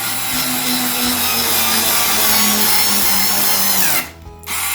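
A SKIL 4V electric screwdriver drives a screw into a softwood doorway, its motor whirring loudly and steadily for about four seconds, labouring slightly near the end before cutting off briefly and starting again.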